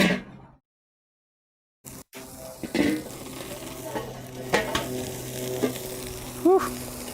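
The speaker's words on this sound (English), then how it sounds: "And now it's about time to flip our burgers." Burgers sizzle steadily in a hot pan as they are flipped, a constant frying hiss with a few sharp scrapes and clinks of a spatula against the pan, and a brief near-silent gap early on.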